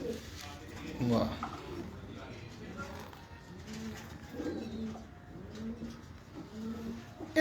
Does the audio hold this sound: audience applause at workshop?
no